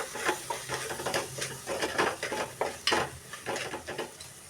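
Spoon stirring salt, chilli powder, coriander powder and garam masala together for egg curry, a steady run of close scraping, clinking strokes in a quiet kitchen.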